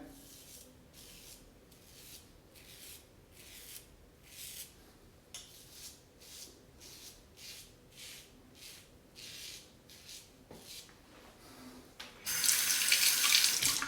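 Tap water runs into a sink as a safety razor is rinsed, a steady splashing wash with pulsing rhythmic swishes, then a louder, harder gush of water near the end.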